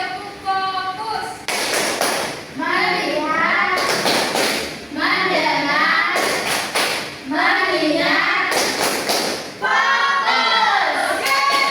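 A class of children performs the tepuk fokus clapping routine in a group guidance session, with loud bursts of rhythmic claps alternating with voices chanting together in unison.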